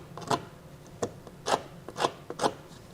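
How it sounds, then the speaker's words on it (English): A knife blade scrapes burrs from a trailer hitch mounting hole on a 2022 Nissan Pathfinder, giving about six short, rasping strokes in an uneven rhythm, up close and fairly quiet. "So now I'm just going to go back with the blade of a knife and just kind of get these burrs off."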